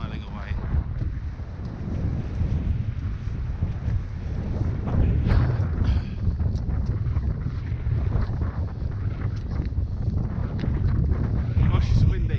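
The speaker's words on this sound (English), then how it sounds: "Gosh, it's windy." Strong wind blows outdoors on an open fell at Honister, a constant loud roar and microphone buffeting with low rumbling gusts that never let up, while a person speaks beneath it.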